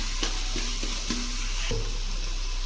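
Basmati rice being fried in a pan for tomato bath, with steady sizzling and several distinct stirring scrapes at close range, with no talk.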